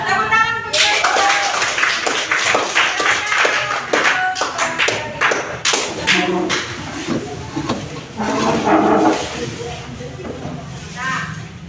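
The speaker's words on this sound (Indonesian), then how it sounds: "Tepuk tangan untuk mereka." A classroom group claps together for about ten seconds, a dense patter of many hands with scattered children's voices mixed in, fairly close and steady before tapering off.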